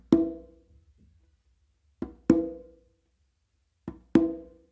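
Hand drums in a songo pattern on congas: soft conga ghost taps followed by ringing open tones on the tumba, three groups spaced about two seconds apart, close and clear with no voices.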